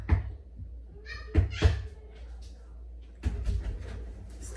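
A door being knocked and banged indoors, several sharp thumps in quick bursts near the start and again later, with a voice speaking between the knocks.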